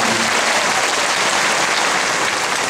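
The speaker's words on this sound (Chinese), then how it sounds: "给自己一个掌声吧。" Dense, loud applause from a concert audience at a Taichung Taiwanese-song gala night fills the hall continuously, steady and close, with no voices over it.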